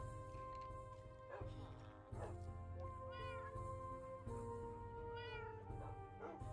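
A tomcat in the Minecraft video game meows several times, drawn-out and whiny, over continuous background game music with a steady low hum.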